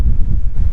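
Warm wind blowing outdoors, a steady low rumble of buffeting against the microphone with no other clear sounds.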